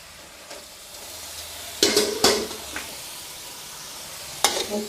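Wai Wai rice vermicelli noodles being tossed through a thick, simmering sauce in a pan, giving a soft ongoing stir with a few sharper scraping clatters from utensils, close by and fairly quiet.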